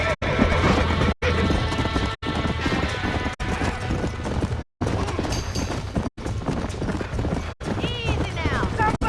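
Horses in a burning barn in the video game Red Dead Redemption neigh and whinny amid clattering hooves and crashing, with voices talking over the chaotic, close scene.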